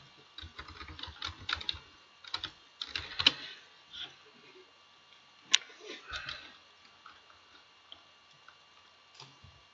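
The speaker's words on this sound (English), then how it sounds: "Then I'm typing" Typing on a computer keyboard while building a Prezi presentation, with quiet clustered key taps in uneven bursts and short pauses, close and faint.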